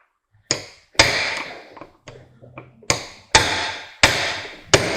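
A hammer drives a blunt screwdriver to knock out a rear suspension arm bearing on a Citroen C5, giving about seven sharp metallic blows at irregular intervals, loud and close, with no talk.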